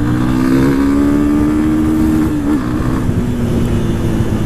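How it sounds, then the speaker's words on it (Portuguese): A brand-new Yamaha Fazer 250 motorcycle engine is revved up close by, its buzzing note rising and easing back in a short burst against a steady running drone. "Vou acelerar aqui"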